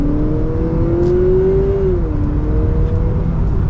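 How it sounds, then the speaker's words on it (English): A 2023 Honda Accord Hybrid Sport accelerating in sport mode, heard from inside the cabin, with a smooth engine tone that rises gently and then eases off at modest revs over a steady road rumble. "And you can hear the engine a little bit, not really high in the RPM there, but we got up to speed."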